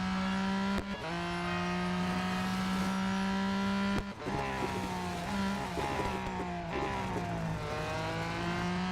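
Race car engines in the mobile racing game Real Racing 3, droning steadily and revving through gear changes, with a brief dip near the start and another around the middle; no one speaks.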